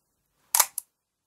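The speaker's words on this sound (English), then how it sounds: "oh, that was just the shutter moving there." Shutter of a Minolta SRT101 35mm film SLR camera firing: a sharp mechanical clack followed a moment later by a smaller second click, close and crisp against near silence.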